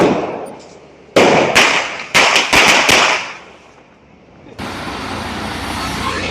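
Deepavali firecrackers going off next door at night, a rapid burst of sharp, loud cracks and bangs close by, followed by a lull and then a sustained hissing spray of a fountain-type cracker.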